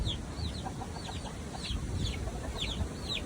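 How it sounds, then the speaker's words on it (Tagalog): Soft, repeated clucking from a Brahma rooster mixes with high chirps from small birds nearby, over a steady low rumble of outdoor background noise. "Para na rin nanay itong tandang natin na Brahma."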